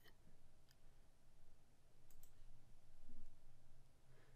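A computer mouse right-clicking while cleaning up a C drive on a virtual machine: a few faint, sparse clicks over a low steady hum, with no talking.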